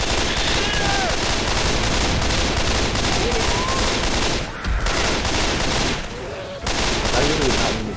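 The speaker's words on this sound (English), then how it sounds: "Pipe bomb." A pipe bomb going off in Left 4 Dead 2 during a carnival level, a loud sustained burst of blasts and gunfire-like crackle, with a brief dip midway and a few shouted voices over the chaos.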